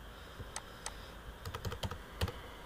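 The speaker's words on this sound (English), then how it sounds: "control V for paste" Computer keyboard keys pressed for a Ctrl+V paste while working in MS Word, a few sharp clicks spaced irregularly, then a quicker cluster of taps, close and fairly quiet with no talking.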